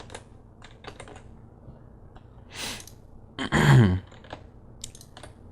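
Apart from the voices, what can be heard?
typing numbers on a lighting console keypad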